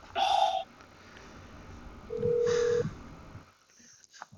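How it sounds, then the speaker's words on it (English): A telephone rings in short electronic tones, one burst near the start and another about two seconds later, faint and somewhat distorted, over a quiet background. "we're getting phone ringing"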